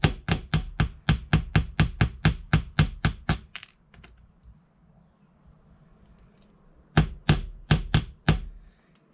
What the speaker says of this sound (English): on my steel block, I'm going to take my jump ring, I'm going to hold it and gently hammer